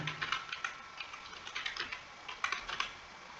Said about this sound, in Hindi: उसका आधार नंबर टाइप करना है